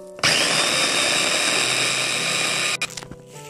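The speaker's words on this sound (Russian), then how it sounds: "Можно это сделать с руками, а можно, как я, воспользоваться измельчителем." Electric food chopper grinding leftover cake into crumbs, a loud steady whirring motor starting abruptly and running for over two seconds before cutting off with a few short rattles.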